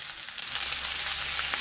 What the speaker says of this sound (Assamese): অলপ ভাজি লোৱাৰ পাছত আদা নহৰু জলকীয়াখিনি দি দিম